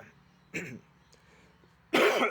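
Two harsh coughs, a short one followed by a longer, louder one, close by in a quiet room.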